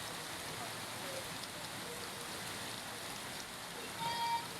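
Heavy rain pours down in a steady, dense hiss, unbroken and fairly distant, with no clear voices, during a downpour in Vadodara, Gujarat.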